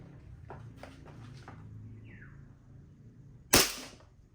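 A Taurus M92 toy gun is cocked with soft mechanical clicks and slides, then fires a single sharp, loud snap near the end, close to the listener.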